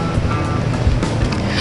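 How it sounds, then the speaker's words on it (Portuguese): A truck rumbles nearby with a loud, continuous low roar and a broad, noisy wash, and no voices over it. "O barulho do caminhão atrapalha"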